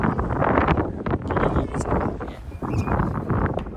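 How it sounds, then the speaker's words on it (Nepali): Wind sweeps across Suma beach in Kobe, Japan, as a steady, loud rushing roar buffeting the microphone throughout, with no pauses. "हावा फेरि त्यस्तै चलिरहेको छ"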